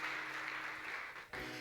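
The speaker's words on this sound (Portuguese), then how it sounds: "Queridos, você pode aplaudir Jesus" Congregation at a church service applauding, a steady wash of clapping heard from a distance at moderate level with a brief dip near the end.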